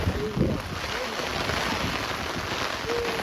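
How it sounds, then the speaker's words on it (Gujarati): Steady rushing wind in a village during a heavy rainstorm buffets the microphone throughout, a constant broadband roar with a few faint tonal squeaks near the start and end. "હવે પવન થોડોક વધી ગયો છે"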